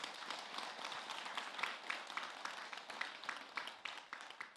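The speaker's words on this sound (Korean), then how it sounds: "박수 한번 치세요." Congregation at a Buddhist temple service applauds together, a sustained, fairly dense patter of many hands clapping that fills the room for several seconds, moderately faint with no speech over it.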